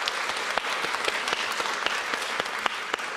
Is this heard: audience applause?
yes